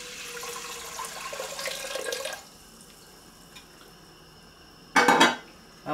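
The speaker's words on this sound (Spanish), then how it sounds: "Vamos a agregarle las 6 tazas de agua." Six cups of water poured into a wide pot of washed rice for Peruvian arroz con leche, a splashing stream for about two seconds, then quiet, then a brief loud clatter of the pot near the end.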